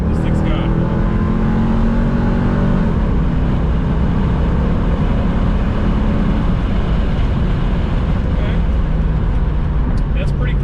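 A powerful C5 Corvette Indy 500 pace car engine with automatic transmission drones loudly and steadily, rising in pitch as it pulls hard, with a brief shift partway and constant road roar.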